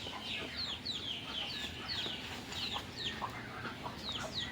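Chickens clucking nearby in a quick, repeated series of short, throaty clucks that continue steadily throughout, with a low background murmur beneath them.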